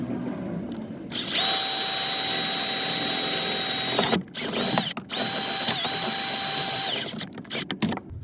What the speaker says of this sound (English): now I'm going to drill the main hole